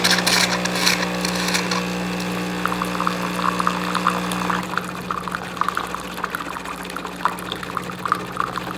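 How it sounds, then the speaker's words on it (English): A Jura S8 super automatic espresso machine dispensing hot water for tea from its spout, a steady humming pump with hissing, gurgling flow that shifts tone partway through. "The machine will come with a hot water spout, and this will get inserted, and then you can certainly achieve hot water for tea."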